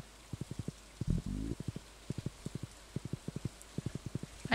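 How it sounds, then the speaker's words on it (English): Low, gurgling burp-like blips from Stardew Valley's rainy-day ambience, recurring in quick irregular clusters of three to five across the clip, with one longer rumbling burst near the start, over a quiet background. "I never understand why there's weird burping sounds when it rains."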